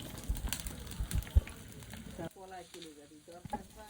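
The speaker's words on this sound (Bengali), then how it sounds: "পেঁয়াজ কুচি হালকা বাদামি করে ভেজে নিতে হবে।" Chopped onions fry in hot oil with a soft, steady crackling sizzle and a few stirring knocks, fading as a voice begins speaking over it.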